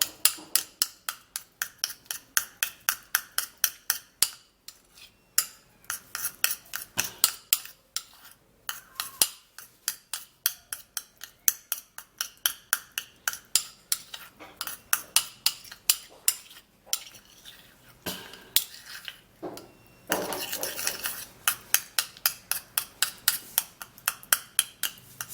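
A spoon mixing homemade stretch mark cream in a bowl, making rapid rhythmic clinks and taps against the sides in steady bursts with brief pauses, close and clear.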